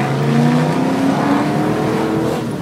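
A 1995 Ford Mustang GT V8 with its mufflers off roars loudly and steadily throughout, its pitch rising in a sustained rev with no one talking over it.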